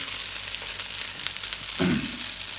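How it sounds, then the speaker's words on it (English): Gyozas fry in a pan to crisp one side, giving a continuous bright sizzle with a burst of louder crackling and spitting near the end. "sometimes it's quite nice just crisping up one side of them"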